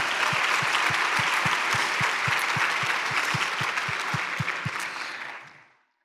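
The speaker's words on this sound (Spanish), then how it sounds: "Dele un aplauso al Señor" Church congregation clapping in praise, a dense sustained round of applause with a few steady rhythmic claps inside it, close and full before fading out at the end.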